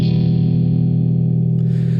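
Electric guitar from UJAM Virtual Guitarist Cinedream through the Eclipse amp, the seventh and dirtiest model, giving one loud sustained distorted chord with reverb and echo, ringing alone with a brief upper shimmer near the end.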